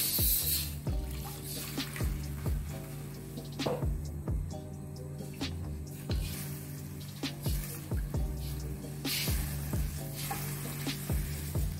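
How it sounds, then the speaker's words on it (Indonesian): Water, 500 ml, goes into a hot pan for chicken steak, raising a steady sizzle with stirring clinks and scrapes and some dripping and trickling, with no one speaking. "Kita beri air 500 ml."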